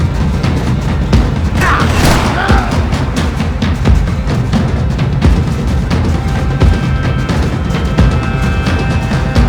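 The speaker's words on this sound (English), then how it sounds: "Gunfire over Hoboken" Gunshots in Max Payne 3 crack out as a rapid, steady series of loud sharp bursts, close and unbroken across the whole stretch, with a brief whine of game effects early on.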